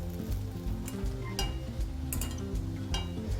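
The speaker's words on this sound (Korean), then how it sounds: "두부는 체에 받치셔서 끓는 물에 살짝 데쳐주시면 됩니다." Tofu in a metal sieve being blanched in boiling water, with steady bubbling and hissing plus scattered sharp metallic clinks and scrapes from the sieve and utensils close by.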